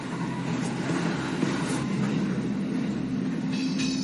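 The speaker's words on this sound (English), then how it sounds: "Rapid Train 5418M needs to be at Amagasaki exactly on time, so passengers can make their connections into Osaka." Rapid Train 5418M, a Japanese commuter train bound for Amagasaki, rumbles steadily along the rails with a continuous low roar and faint wheel clatter, loud and unbroken throughout.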